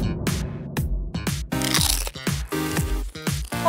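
A small bite of spicy real food during a chocolate fondue eating challenge gives a run of loud, close crunching bites mixed with bright tonal sound effects, with no speech over them.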